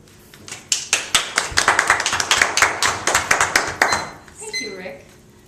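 A small audience at a table topics speaking meeting claps after a speech: sharp, close handclaps swell into steady applause for a few seconds, then taper off, ending with a brief tonal ring.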